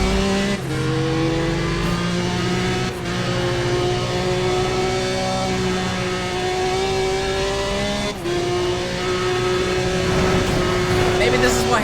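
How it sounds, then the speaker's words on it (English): A Porsche engine in the racing game Need for Speed ProStreet revs hard and steady, its droning tone briefly dipping at a few gear shifts before climbing again, loud and close throughout. "Chat, be honest, it sounds like a Porsche"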